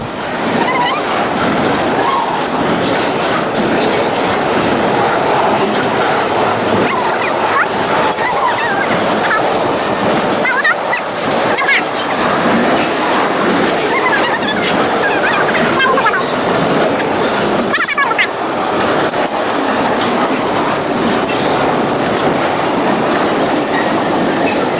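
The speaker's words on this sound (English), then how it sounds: "We're gonna speed up this train so you can watch the whole train in less time." A long freight train rolls past in sped-up footage, a dense, continuous roar of wheels and rattling cars with clacking bursts, loud and steady throughout.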